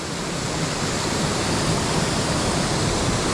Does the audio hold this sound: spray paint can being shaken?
no